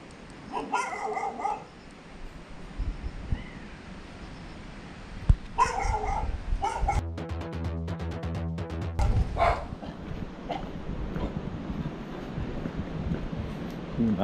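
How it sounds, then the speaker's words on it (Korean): A dog barks and yips repeatedly at a person out on a walking-exercise stroll, sharp close barks in short bursts over outdoor ambience. "나한테 짖는 거야?"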